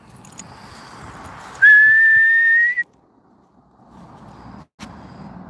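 A person whistles a single sustained, slightly rising note outdoors to call a dog on a walk, loud and close for about a second amid quiet ambient noise, with a faint thump after.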